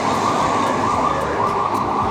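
A police car siren sounds in a Lisbon street, a steady loud wailing tone that fills the whole stretch with traffic rumble underneath.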